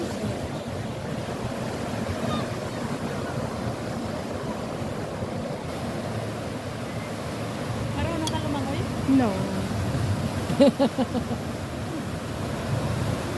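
Surf rolls onto Big Wave Beach in Hong Kong in a continuous wash of waves with wind noise, while people nearby talk over it and a few sharper splashes rise near the end.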